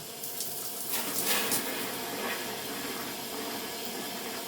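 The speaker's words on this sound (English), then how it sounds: "And now when we turn the water on," Water runs from a bathtub tap through a soft water filter in an apartment bathroom, a steady hissing flow with a few brief splashy surges early on, no voices.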